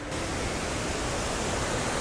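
Water from a waterfall in a renowned garden pounds down steadily, a dense unbroken roar filling the space at close range with no pauses.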